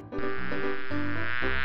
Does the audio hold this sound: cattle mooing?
no